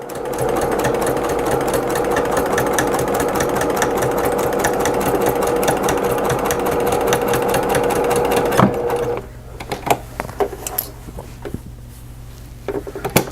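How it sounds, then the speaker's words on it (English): A sewing machine stitches a quilt-as-you-go table runner at close range, running loud and steady for about nine seconds before it stops. Quieter fabric handling and clicks follow, with no speech. "I'm going to go ahead and continue sewing."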